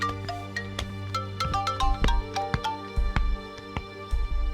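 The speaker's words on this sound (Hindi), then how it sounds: "फोन बज रहा है।" A phone rings in an indoor scene, a repeating electronic ringtone melody of bright chiming notes carrying on steadily, moderately loud and with no one talking over it.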